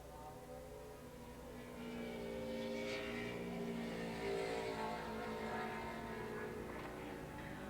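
Racing motorcycles at Willow Springs International Raceway in a 1986 AFM Formula USA event drone steadily from a distance, a sustained engine roar that swells slightly in the middle with no talking.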